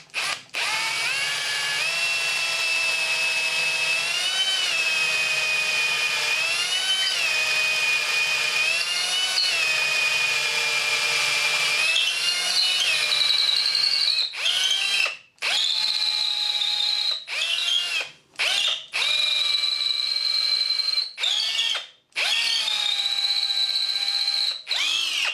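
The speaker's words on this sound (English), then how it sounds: "I can drill an 8 millimeter hole through there and through the bottom." A power drill bores an 8 mm hole through metal pieces clamped in a vise, a steady loud whine that rises and falls with feed pressure, then breaks into short bursts with brief stops near the end.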